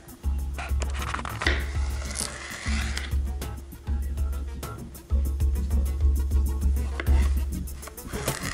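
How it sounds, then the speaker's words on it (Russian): A knife slices a fresh cucumber for a vegetable salad in a series of quick, crisp, evenly spaced cuts against a board, close and fairly loud, with a low thudding pulse beneath. "Режу огурец."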